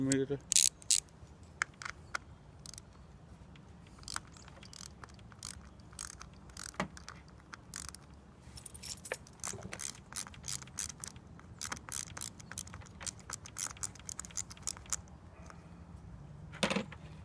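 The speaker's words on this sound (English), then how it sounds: "then when it's almost loose, you can use your wheel wrench to take it off." A small wheel wrench loosening the wheel nut on a Traxxas RC car, heard as scattered light metallic clicks, ratcheting ticks and scrapes, close and sparse, over a quiet background.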